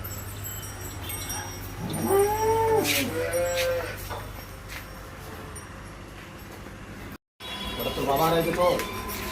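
Two long, drawn-out moos from a young cow in Bihar, loud and close, separated by a pause, over a low steady hum and background noise.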